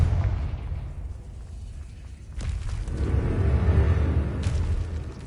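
A fiery Confringo blast spell in a wizarding video game, heard as a rumbling low boom that swells after a brief lull and rolls on steadily for a few seconds, with no voices over it.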